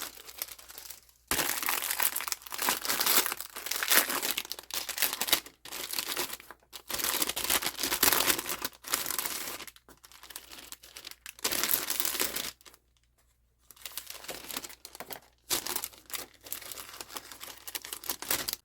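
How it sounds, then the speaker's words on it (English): A sealable plastic bag is handled and crinkled close by, giving dense crackling rustles in bursts of several seconds separated by short quiet gaps. "So I'm left with a bag, a sealable bag, which is nice."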